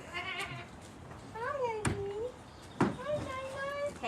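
A person mimics a goat's bleat with a series of wavering, nasal calls, two or three rising and falling cries close to the microphone with short gaps between them.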